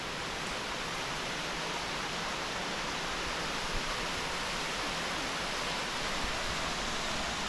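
Punchbowl Falls, a waterfall on a creek in NSW, roars as an even, steady wash of falling water heard from upstream, constant and unbroken with no voices.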